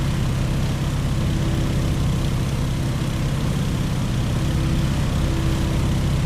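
Stearman open-cockpit biplane in Microsoft Flight, its propeller engine droning in a steady, dense, unbroken roar that stays even throughout.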